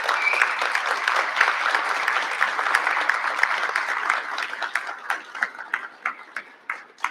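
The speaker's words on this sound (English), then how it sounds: "if we could give them a rousing round of applause for all they do for our youngest" A room full of people clapping for school district staff at an early learning center board meeting, dense applause that thins into scattered individual claps before fading, close and fairly loud.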